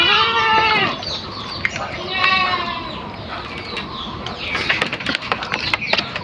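Goats on a goat farm bleating several times in quick succession, loud and close, with quieter scattered clatter and shuffling from the herd afterward.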